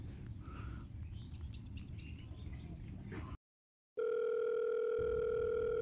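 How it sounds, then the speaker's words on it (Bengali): A phone call connects to a steady ringback tone while waiting for an answer, a continuous electronic tone that starts abruptly after a short silence, following a stretch of outdoor background with faint bird chirps. "রিং হইতেছে, ফোন তো ধরতেছে না।"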